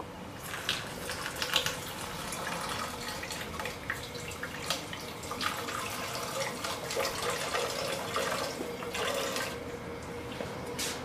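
Tap water runs or is poured steadily for about eleven seconds, a soft continuous splashing and trickling at moderate level close by, with no voices over it.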